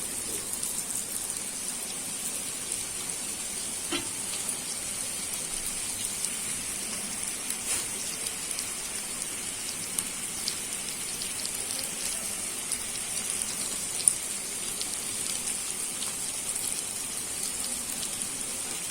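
Fish wrapped in banana leaf fries in a little oil on a flat griddle, giving a steady, even sizzle with a fine hissing crackle that runs continuously and unchanged at moderate volume.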